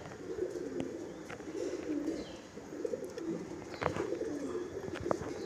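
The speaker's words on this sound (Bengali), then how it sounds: "মাদি সুন্দর পায়রা" Female pigeons of a Kalanka flying line cooing in a loft, a steady murmur of overlapping low coos with occasional clicks and wing sounds, close and continuous.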